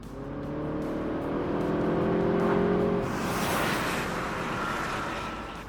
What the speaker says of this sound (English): The engine is lively, it's energetic and responds so happily when you press down on the accelerator